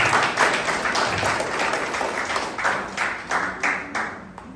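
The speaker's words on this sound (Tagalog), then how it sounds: "malakas na palakpak para sa Panginoon" A church congregation claps in rising and falling waves after a prayer, loud and rhythmic with the sound swelling in repeated bursts, and no voices over it.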